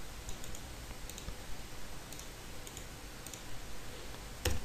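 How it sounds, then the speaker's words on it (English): Keys on a computer keyboard tapped while entering a login command come in a few quick clusters of soft clicks over a steady hiss, close but faint, ending with a sharper press. "Let's type SSH John at our target IP,"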